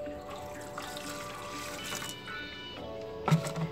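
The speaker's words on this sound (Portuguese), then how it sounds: "E adicionar minhas 400 ml de água." About 400 ml of water trickles and pours into a small pot of grated homemade liquid soap, a soft continuous splashing close by, with a brief louder slosh near the end.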